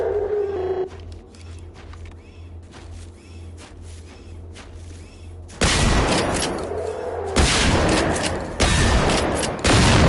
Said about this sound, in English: a much stronger gun. That's why I went with the AG4. Automatic.